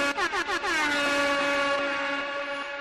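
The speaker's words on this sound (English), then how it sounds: "Take a shot every time I use the air horn sound." An air horn sound effect blares as one sustained, loud, bright tone, starting with a few quick stuttered bursts and then holding steady for nearly three seconds, with no talk over it.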